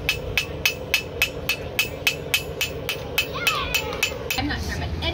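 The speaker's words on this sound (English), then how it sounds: "He's forging a knife." Steel knife blade hammered on an anvil at a homesteading fair booth: about a dozen sharp, ringing blows land in a steady quick rhythm, close and loud, over a murmur of crowd noise and voices.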